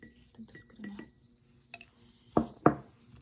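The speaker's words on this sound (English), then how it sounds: "the way that works for me is to mix my mica powders" Mica powders for lip gloss get mixed in a small container, making light clinks and taps, then two sharper knocks near the end, quiet and close with no talking.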